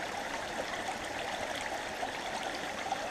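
Water running steadily through a gold prospecting sluice, a continuous close rushing and trickling flow with no voices over it.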